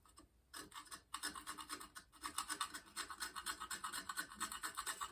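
Steel wool scrubs a bicycle handlebar in quick back-and-forth rasping strokes, close and fairly quiet, a steady scratchy rhythm with a brief pause near the start.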